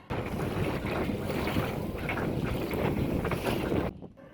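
A rented boat moves along the Buriganga river near Sadarghat during the monsoon season, with steady wind buffeting the microphone and water washing past the hull. The sound stays loud and continuous and then cuts off near the end.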